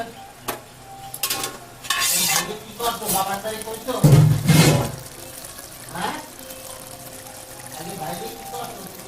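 Hilsa fish in banana leaf fries on a low flame with soft sizzling, stirring and scraping noises and an occasional louder clatter, while a person talks intermittently over the cooking.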